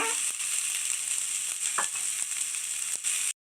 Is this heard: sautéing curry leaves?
yes